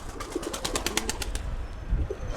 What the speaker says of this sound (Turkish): kanat sesine bak